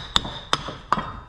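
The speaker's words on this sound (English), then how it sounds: "Get my hammer. Give the shaft a little" Three sharp metallic hammer taps on a shaft, evenly spaced about every third of a second, close and fairly crisp.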